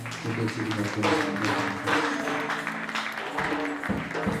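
Church congregation applauding during a Sunday worship service, a dense, steady wash of clapping with singing or voices mixed in throughout.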